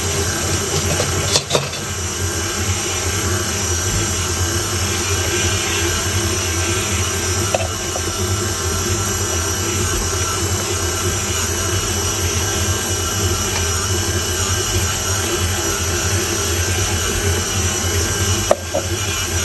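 A stand mixer kneads focaccia dough into a firm ball, its motor giving a steady, unbroken whirring drone for the whole stretch with no one talking.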